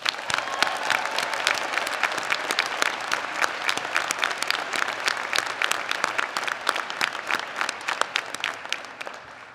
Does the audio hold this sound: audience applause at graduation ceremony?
yes